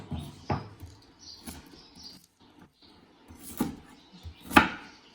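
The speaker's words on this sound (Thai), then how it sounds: "หั่นกระชายกันก่อนนะคะ" Fingerroot (krachai) is sliced with a knife on a cutting board, a few sparse, sharp chops with quiet gaps between them, close up and without talk.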